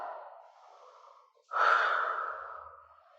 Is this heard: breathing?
yes